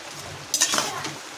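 Fish slide into hot oil in a pan with a brief clatter and a burst of sizzling, short and close, over a low kitchen background.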